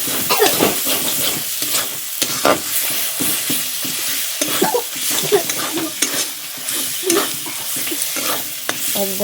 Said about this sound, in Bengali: এই দেখো আমার কষানি হয়ে গেছে মশলাটা